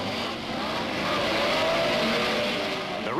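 Racing cars leave the grid at the start of an 80-lap motor race on a 2.65-mile circuit, their engines forming a dense, steady roar with a rising whine near the end and no voices.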